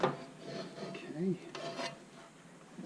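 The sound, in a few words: stirring meatballs and sausage into tomato sauce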